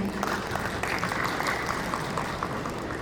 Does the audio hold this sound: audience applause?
yes